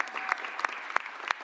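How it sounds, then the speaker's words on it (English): Audience applause at a press conference for a Philadelphia Super Bowl parade, steady dense clapping with a few sharper claps standing out, moderately loud and alone without talk. "Give him a huge round of applause."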